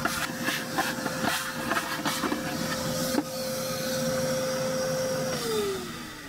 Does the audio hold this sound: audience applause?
no